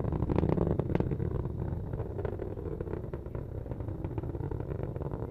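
An Atlas V rocket roars in flight during a launch, a dense, continuous rumbling roar at a steady level with faint crackle throughout.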